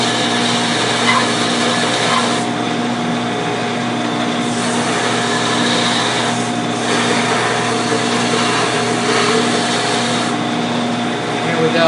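The bottom of a small wooden finger plane is sanded, giving a steady, loud, abrasive whir with a constant hum that pulses slightly in intensity from start to finish.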